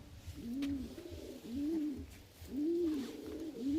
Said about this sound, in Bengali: এই দেখুন মাদা পায়রাটা দেখুন